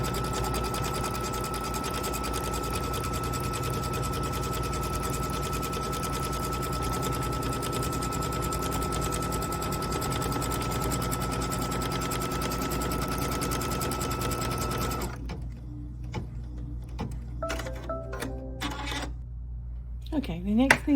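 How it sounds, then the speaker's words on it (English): An embroidery sewing machine runs a tack-down stitch through quilt batting, humming and whirring steadily at close range before stopping, followed by scattered handling clicks. "We're just gonna hold it and let it do our tack down stitch."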